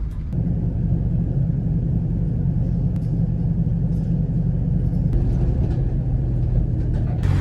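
A delivery truck carrying a washer drives down the road, a steady, loud low rumble of engine and tires heard from inside the cab, continuous and without talk.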